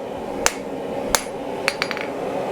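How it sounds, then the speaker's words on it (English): A blacksmith's rounding hammer strikes hot steel while forging a decorative wall sconce over a round die. Several sharp ringing blows land at irregular intervals, the last few in a quicker cluster, with a low shop hum behind them. "This is the beauty of the rounding hammer."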